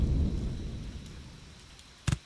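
Rainy weather in the game Empyrion: a steady low rumble of rain and distant thunder fades across the stretch, then a short, louder crackle bursts near the end, with no talking.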